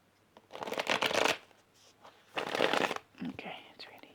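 Tarot cards being shuffled in two main bursts of riffling, close and fairly soft, with a shorter rustle near the end and no speech over it.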